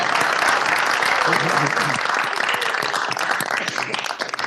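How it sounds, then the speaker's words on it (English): Senators clapping in a state senate chamber during a session, a steady dense patter of hands filling the whole stretch, with voices murmuring beneath it. "I'm going to clap"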